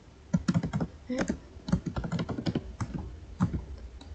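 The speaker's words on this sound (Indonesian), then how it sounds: "Lalu kita ketikkan" Fingers type on a computer keyboard while configuring a MikroTik router through a terminal, producing close, crisp bursts of irregular keystrokes with short pauses between groups.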